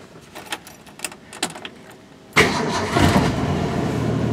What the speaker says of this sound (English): Typical 6-cylinder though. Fires right up.